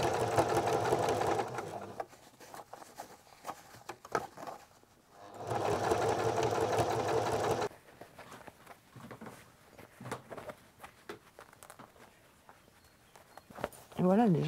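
A sewing machine topstitching hat fabric, running in loud sustained bursts with pauses between, close and steady, alternating with quieter handling of the fabric.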